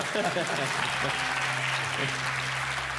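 Audience applause at a Quran recitation competition, a steady continuous wash of clapping throughout, with a voice speaking faintly underneath.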